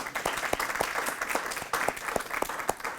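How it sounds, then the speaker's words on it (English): A school audience applauds the school nurse at an elementary wellness centre ribbon-cutting, with steady, dense clapping close by for a few seconds and a faint murmur of voices underneath. "Yeah, let's give her a nice round of applause, Shelley."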